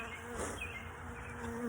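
Honey bees from a freshly opened emergency hive split drone in a dense, continuous buzz close by, steady and fairly loud, with no voices.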